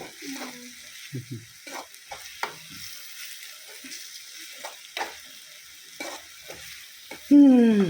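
Tomatoes frying and being stirred in a pan, with intermittent scraping and soft sizzle in short bursts, and a louder clatter near the end.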